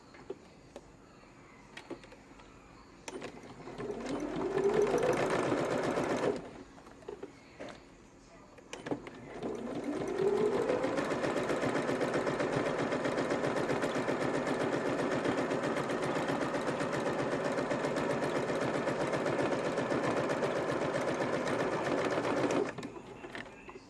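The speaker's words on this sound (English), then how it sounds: "we're now going to stitch a quarter inch seam down the bottom there to join the card slots together" A sewing machine stitches a quarter inch seam across fabric card slots, running in a short burst, pausing, then whirring steadily for a long stretch before stopping, close and alone.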